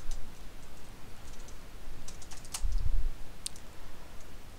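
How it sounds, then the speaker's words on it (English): Soft typing on a computer keyboard while entering code, a few scattered key clicks and a brief cluster of taps against a quiet room hiss, close and faint, with no talking. "I have been typing these in individually"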